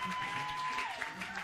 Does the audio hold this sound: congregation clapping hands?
yes